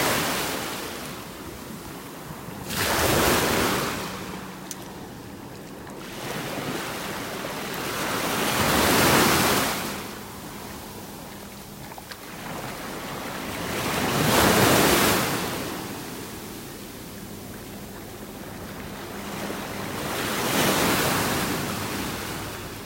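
Waves breaking on a Gulf beach in North Naples, Florida, with shells rolling in the surf; four slow surges of rushing water about six seconds apart over a continuous roar and wind noise on the microphone, close and steady.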